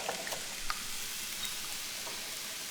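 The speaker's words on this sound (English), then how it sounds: "And I'm gonna whisk that all together." Eggs and heavy cream are whisked together in a bowl, giving a soft, steady hissing swish with faint light clicks, quiet and with no talk.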